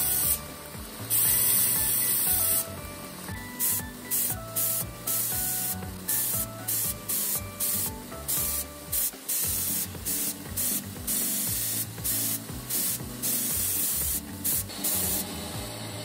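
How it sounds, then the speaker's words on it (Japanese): Spine of a handmade Damascus steel Japanese kitchen knife polished on an abrasive belt, giving a loud, harsh hissing grind in short repeated strokes with brief gaps between passes, and no talking. "峰は長時間指を乗せた時に痛くないように、慎重に角を丸めながら形が崩れないように磨いていきます。"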